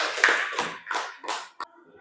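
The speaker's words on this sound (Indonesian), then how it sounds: "Tepuk tangan untuk Haikal" A few separate hand claps in a classroom, about five spaced beats over two seconds, close and moderately loud with faint room noise between them.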